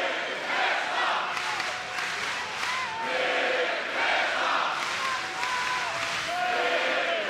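Huge boxing arena crowd of about 10,500 in Herning roaring and chanting rhythmically for Mikkel Kessler during a world title fight, swelling waves of massed voices with a commentator talking over them.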